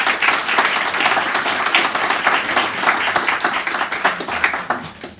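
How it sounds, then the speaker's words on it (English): Audience at a scholarship awards ceremony applauding, dense continuous hand clapping from a crowd, loud and close, gradually thinning toward the end. "And everybody, please applaud them."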